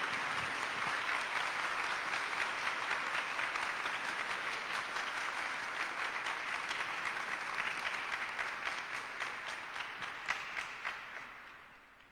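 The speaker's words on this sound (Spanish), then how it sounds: "Fuertes los aplausos." An audience at a philosophy symposium in Lima claps steadily in sustained, even applause, moderately distant, that thins out and tapers off in the final seconds.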